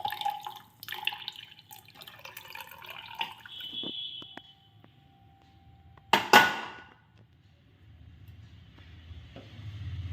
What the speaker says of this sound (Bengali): আর এই যে একটু ঢেলেও নিচ্ছি।